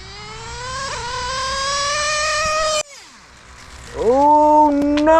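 An HPI Savage X RC truck with a Novarossi 28.8 nitro engine wails at a high pitch that climbs steadily, then cuts off abruptly at the two-speed shift. It revs back up loud and close.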